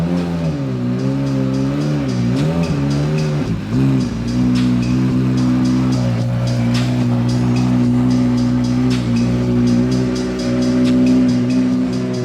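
McLaren 720S GT3X race car engine pulling away from first gear, a loud, steady harmonic drone with rising and dipping pitch early on, then a sustained high-revving roar that stays close and dominant throughout.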